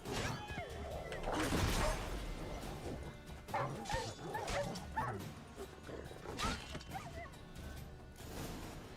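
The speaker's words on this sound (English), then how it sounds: "So these stray mutts form packs." Stray dogs in The Witcher 3 game bark and yip in a loud, close, agitated burst, then keep up scattered barks, whimpers and thuds from a fighting pack, with some voices mixed in.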